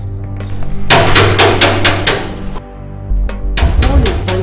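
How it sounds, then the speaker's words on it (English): Someone bangs hard on a gate, making a rapid run of loud, sharp, close knocks that stops, then a few more heavy bangs follow over a low background hum. "Someone is banging at the gate."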